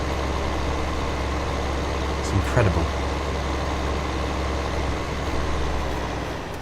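A tractor engine runs in the Farming Simulator 2015 video game, a steady low idle-like drone that continues throughout, with a brief louder rise in the middle and a short spoken remark over it.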